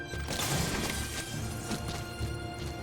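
Glass shatters in the Metal Gear Solid V stealth game, a quiet, brief crash with scattered tinkling debris over a low game ambience.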